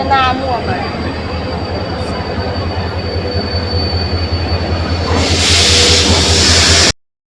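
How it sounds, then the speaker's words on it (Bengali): A train stands at a railway station, its loud steady engine rumble and hum dominating, with a brief squeal near the start and a hiss building toward the end before a sudden cutoff. "ট্রেন বসে আছে"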